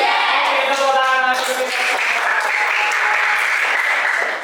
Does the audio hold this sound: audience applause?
yes